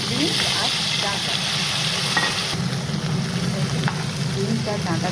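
Beans and vegetable stalks fry in a pan, producing a dense, continuous sizzle with occasional stirring clinks, close and fairly loud, steady throughout without pauses.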